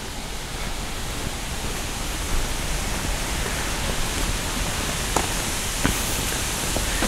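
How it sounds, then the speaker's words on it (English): Wind rushes through trees in the gardens of Witley Court, a steady broadband hiss that swells slightly partway through, with a few faint ticks and no voices. "Hear the wind blowing through the trees as well, which is nice."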